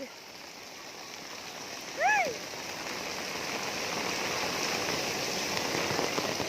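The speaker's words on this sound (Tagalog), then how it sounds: "Grabe ang lakas ng ulan." Steady, dense rain hiss fills the whole clip at moderate loudness, with a brief rising-and-falling whistle-like tone near the start.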